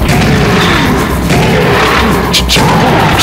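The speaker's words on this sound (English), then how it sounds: "Yeah, shotgun!" Shotgun blasts in First Encounter HD, heavy booming shots over a dense, loud, continuous roar of game action with no clear gaps.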